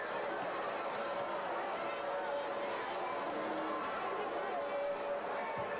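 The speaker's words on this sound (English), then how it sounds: "I don't know if I'm deaf with the crowd booing in my ear." A crowd at a 1983 World Class wrestling event boos from a played-back recording, a loud, continuous wash of jeering voices and crowd noise with no break throughout.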